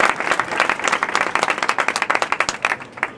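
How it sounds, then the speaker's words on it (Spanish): Crowd applause in the street during an auction to carry the Virgin into her hermitage in Nerpio, sustained rapid clapping from many hands, fairly loud and close, with no talk over it. "Un aplauso para los 200"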